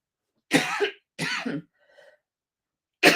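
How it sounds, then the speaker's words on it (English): A few sharp coughs in quick succession, close and fairly loud, with brief silence between them and a faint wheezy trace after. "Now I'm coughing."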